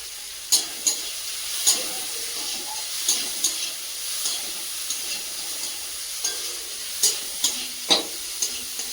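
Prawns fry in a pan with salt, turmeric and green chilli, giving a steady sizzle punctuated by sharp clinks and scrapes of a stirring utensil, with no talk.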